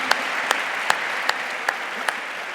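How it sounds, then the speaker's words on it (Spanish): An audience at a political event in a Spanish village applauds steadily, a soft even wash of clapping with a few sharper claps standing out at regular intervals, heard at moderate distance. "Un aplauso"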